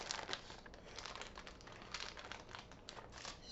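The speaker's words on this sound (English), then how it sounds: "Peel the paper off of this," Parchment paper being peeled off the back of a baked chocolate sponge cake for a yule log, a steady close crinkling and crackling with small tearing bursts throughout, no talking.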